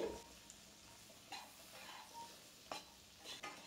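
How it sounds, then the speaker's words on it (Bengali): Eggplant pieces with salt and turmeric fry in hot oil, a soft low sizzle under several distinct scraping stirs of a spatula against the pan, faint and close. "বেগুনগুলোকে আমি ভেজে নেব লাল লাল করে।"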